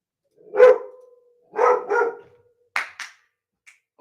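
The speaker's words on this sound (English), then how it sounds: "Can't be having that barking in the background." Dog indoors near a window barks in a short run of four or five sharp, loud barks with quiet gaps between them, close to the listener.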